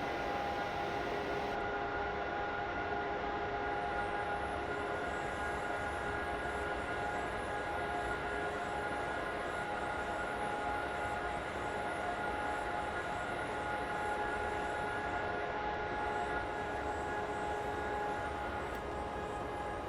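Train running in a train simulator game on the Seeberg Valley route, a steady droning hum with a sustained tonal whine held evenly throughout, no voices over it.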